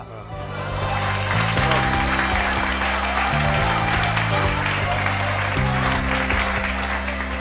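A television studio audience applauds during an Eid special political poetry show. The clapping is loud and steady over sustained low musical tones, with a brief quieter lead-in.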